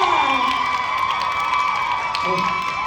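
A crowd at a blood-donation fan event cheers and shouts loudly, with applause and whoops over steady background noise.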